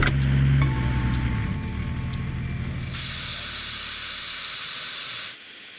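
Broadband air hissing from 4WD tyres being aired down on a trail, a loud steady rush that continues over low engine rumble and cuts off near the end.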